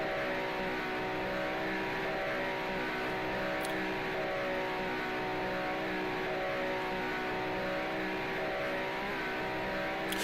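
A 1967 Cooper Formula One car in the Grand Prix Legends racing game holds a steady, sustained engine drone near its rev limit, loud and continuous with no voices.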